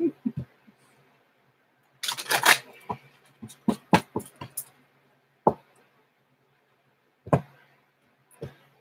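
A deck of cards is shuffled during a tarot-style reading, crisp clattering riffles in short bunches separated by quiet gaps, close and fairly soft.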